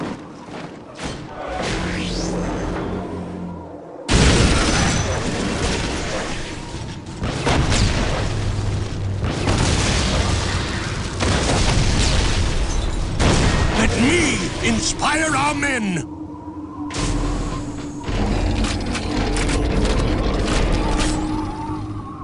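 Artillery fire support in the Dawn of War Winter Assault strategy game: loud, continuous booming explosions and rumbling blasts with whooshes and mechanical clatter, dense and near, with brief voice lines over them.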